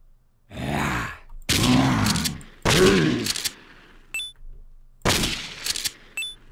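Gunfire in Dead Pixels, a shooter video game: four loud, close bursts of shots separated by short silences, with a groaning tone under the first two.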